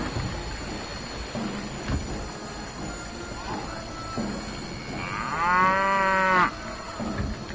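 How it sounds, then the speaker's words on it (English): A cow moos once inside the Happyfunland VR game on PSVR2, a single drawn-out low call lasting about a second midway through, over faint game background noise. "Why is it mooing?"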